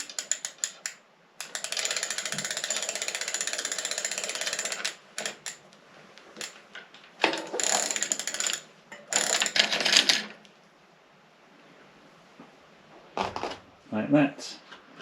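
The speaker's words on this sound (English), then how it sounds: "We can just draw the chain out of the system." A mountain bike chain rattles and clicks as it is drawn out of the drivetrain, in long bursts of dense metallic clatter broken by brief pauses and short handling noises, with no talk.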